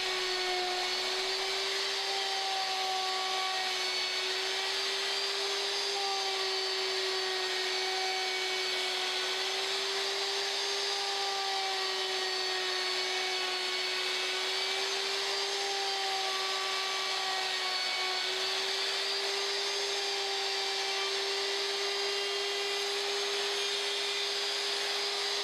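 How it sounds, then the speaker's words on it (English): A router fitted with a circle-cutting jig cuts MDF blanks, giving a steady, even high whine that runs without a break and sits fairly quiet in the mix. "I set the router at a shallow depth, made my first pass on all 4 blanks, reset the router for a deeper cut"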